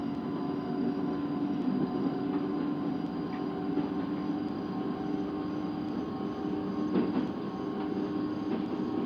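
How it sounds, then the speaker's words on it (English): Northern line train in the Open BVE railway simulator game pulling away, a steady continuous rumble with a sustained tonal motor whine, fairly loud and even throughout, no talk. "This train is about to depart."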